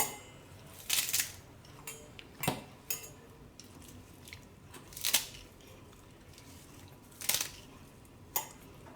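Sharp intermittent knife chops through fresh coriander for green chutney premix, roughly a dozen crisp cuts in irregular rhythm with quiet kitchen background between them.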